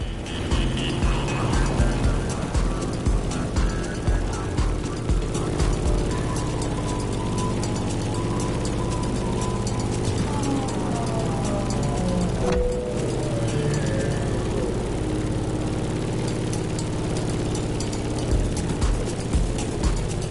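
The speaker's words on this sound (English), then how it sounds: "In the cockpit of a stunning Grumman F-8F Bearcat, or simply the Bear." A Grumman F8F Bearcat propeller plane in the racing game The Crew Motorfest drones steadily in flight, with its engine note sweeping slowly up and down over a constant rumbling roar.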